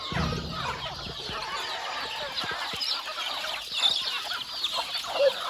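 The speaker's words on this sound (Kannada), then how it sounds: "ನೋಡಿ ನೋಡಿ ನಮ್ಮ ಕೋಳಿಗಳೆಲ್ಲ ಬರ್ತವೆ ಈಗ" Native country chickens (nati koli) of all sizes, chicks to grown hens, clucking steadily as they crowd in to drink water on a farm, with scattered sharper calls rising over the flock's chatter and no voices.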